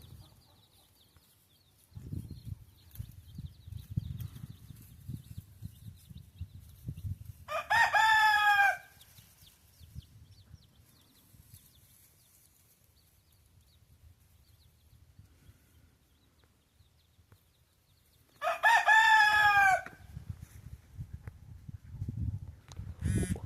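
Chickens on a Texas farm, with a rooster crowing loudly twice, about eleven seconds apart, over soft, scattered clucking and low rustling in the background.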